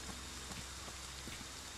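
Steady rainfall in the video game Friday the 13th, a continuous soft hiss of drops with faint patters on surfaces nearby.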